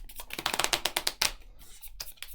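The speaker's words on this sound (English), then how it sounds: "Just give them a quick little shuffle there." Trading card rune decks for the Riftbound TCG being shuffled by hand, a quick run of crisp, rapid riffling clicks in close bursts, then a pause and a couple of softer flicks at the end.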